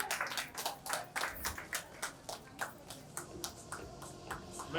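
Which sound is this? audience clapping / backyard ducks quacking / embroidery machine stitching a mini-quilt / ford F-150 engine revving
audience clapping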